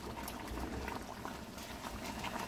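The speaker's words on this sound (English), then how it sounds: "the fish is just simmering now in the coconut milk and the curry sauce with the other ingredients" Fish curry with coconut milk simmers in a pot, a faint, steady bubbling and popping with soft patter, close and continuous without any talk.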